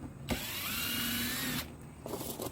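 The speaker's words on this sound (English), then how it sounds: "I have an impact gun" An impact gun spins out 7mm bolts during a Chevrolet HHR cowl leak repair, one loud continuous whirring burst lasting over a second, followed by quieter rattling handling sounds.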